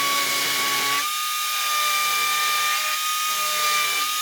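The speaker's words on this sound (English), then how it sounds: "We had to open it up with the die grinder" A die grinder trims metal during a Honda BFWD shifter install, a steady high-pitched whine holding one tone, with a brief dip in load about a second in and another near three seconds.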